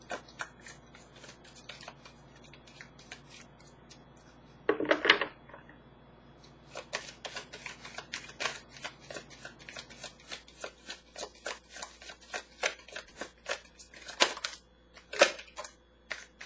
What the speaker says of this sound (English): I'm being very quiet and shuffling on purpose because I just want your energy to come in.